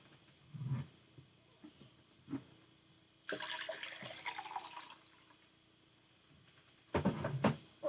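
Water runs from a tap in two bursts, a steady hiss of a few seconds and then a shorter gush at the end, close and fairly loud, with quiet gaps and small clunks between them.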